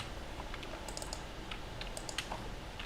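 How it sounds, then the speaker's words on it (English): Someone types on a computer keyboard at a design workstation, with soft, irregular clusters of key taps over a steady background hiss. Nobody speaks. "we're going to type in whatever we want over it"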